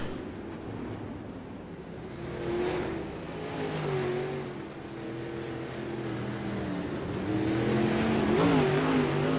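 Pro late model dirt track race cars run on championship night at Lernerville, their engines droning from a distance and rising and falling in pitch as the cars circle the track.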